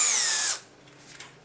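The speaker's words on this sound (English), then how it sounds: "this is my CXS drill here, and I'll put a small pilot hole so my thread can go in there" A Festool CXS cordless drill whirs at high speed for about half a second while boring a small, shallow pilot hole for a thread, then winds down and goes quiet.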